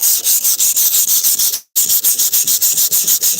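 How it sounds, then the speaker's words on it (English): Cheap Dollar Tree sandpaper rasps back and forth over a surface during detailing work, a loud, steady rhythm of gritty strokes with one brief pause midway, close up and with no voices. "Let's sand it off"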